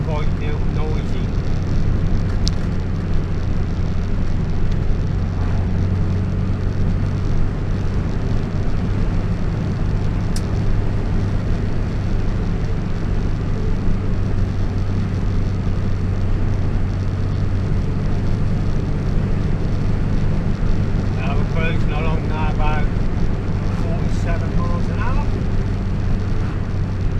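A Morris Minor car driving at top speed uphill, with a steady loud engine drone and road and wind roar running unbroken throughout, a faint chirping briefly audible near the end.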